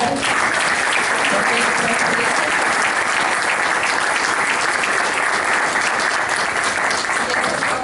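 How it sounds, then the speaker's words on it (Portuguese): An audience at a business meeting gives sustained, dense applause that stays loud and even from start to finish, with many hands clapping together. "E eu peço, então, uma salva de palmas para o nosso pessoal da informática"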